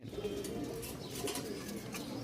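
Rajshahi Giribaz pigeons in a pair, soft low cooing repeated close by against faint background hum.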